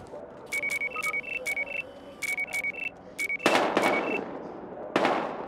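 Gunfire in the Battlefield Hardline video game: a few loud, sharp bursts follow a run of quick electronic beeps.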